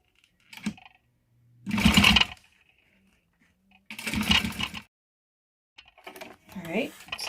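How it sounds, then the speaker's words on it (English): Sewing machine running top stitching at an eighth of an inch on fabric, three separate bursts of rapid needle motor whirring with quiet pauses between, and a voice speaking near the end. "I'm going to sew down at 1/8 of an inch, just top stitching really nice and pretty"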